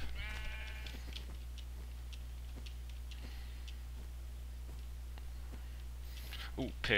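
Sheep in a Minecraft let's play bleat in short bursts at the start and end, faint against a steady low hum and soft keyboard clicks.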